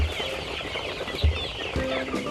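Chickens cluck and murmur on a chicken farm of around 800 birds, a busy overlapping chorus of nearby hens with occasional sharper calls and a brief rustle of movement, continuous throughout.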